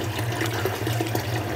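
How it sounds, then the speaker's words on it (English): Tap water runs steadily into a bowl or sink while potatoes are washed, a close continuous rush with faint splashing and sloshing over a low hum, and no speech. "Now I'm just going to wash the potatoes until the water is clean."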